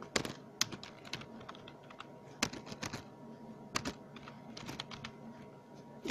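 Typing on a computer keyboard, close and fairly quiet, with irregular bursts of sharp key clicks separated by short pauses.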